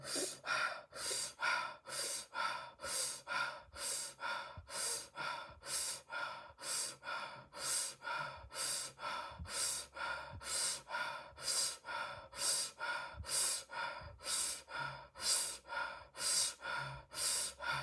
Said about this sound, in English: Breathing in for 20 breaths now.